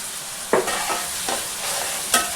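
Onion pieces, green chillies and curry leaves being stirred in hot frying oil: a steady sizzle broken by a few sharp scraping strokes of the spoon, close and fairly loud, with no voices.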